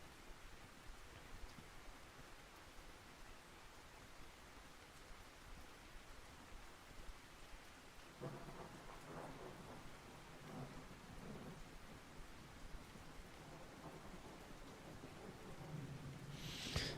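Steady rain hisses through a night scene in the fishing video game Russian Fishing 4, with low rumbling thunder rolling in partway through and a louder crack near the end.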